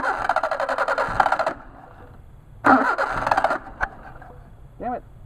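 A Mercedes 190SL engine with Solex carburetors cranking on a hot start: two loud, close starter bursts with a sharp click between them, and the engine never catches.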